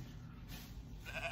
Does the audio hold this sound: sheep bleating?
yes